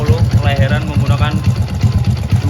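A Honda Karisma 125 motorcycle bored up to 147cc idles through a JRT exhaust with a 50 mm inlet, a close, steady low pulsing putter while someone talks over it.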